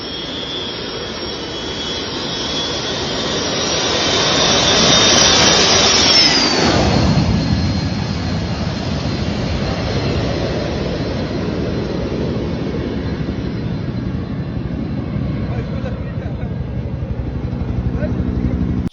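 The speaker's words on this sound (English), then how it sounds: "they've just created a makeshift terminal so that the plane can just run off, boop, and fly" A small airplane takes off from a makeshift bush airstrip, its engine roar building to a loud peak and then holding a steady, broad rushing drone as it climbs away.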